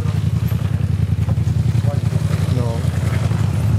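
A Raptor quad bike engine drones and revs close by in a rough, pulsing low rumble that climbs slightly toward the end, while people talk over it.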